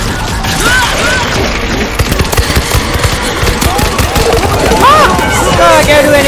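Rapid automatic gunfire rattles almost nonstop through a co-op zombie shooter, World War Z Aftermath, with loud dense bursts, distant shots and chaotic combat noise, while players talk excitedly over it.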